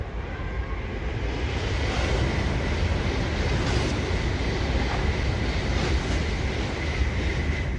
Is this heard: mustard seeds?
no